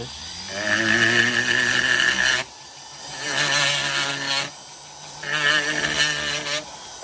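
A rotary tool fitted with a burr rounds over the edges of intarsia wood pieces, a high whining grind that comes in three sustained passes of about two seconds each, with brief lulls between them, close and loud with no talk.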